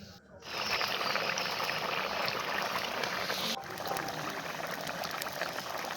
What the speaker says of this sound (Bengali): ঝোলটা দিয়ে ভালো করে কিন্তু এখন ফুটিয়ে নিতে হবে।